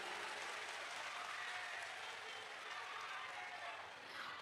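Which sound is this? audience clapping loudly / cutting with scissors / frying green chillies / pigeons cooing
audience clapping loudly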